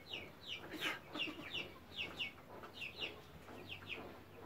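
Backyard chickens cluck in quick, repeated bursts, several birds close by but fairly quiet, with no talking.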